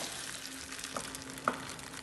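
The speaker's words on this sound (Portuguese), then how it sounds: "Agora vamos virar a panqueca." An oat pancake sizzles in a frying pan, a steady crackling fry with a soft thud or two as it is turned, the second slightly louder, heard close without talk.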